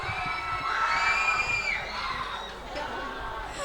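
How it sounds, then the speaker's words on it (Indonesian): A school hall audience at a student council election debate cheers and shouts, with high children's whoops and yells over crowd noise, loud at first and then easing. "Beri tepuk tangan yang meriah."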